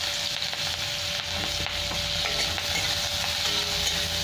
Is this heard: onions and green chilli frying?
yes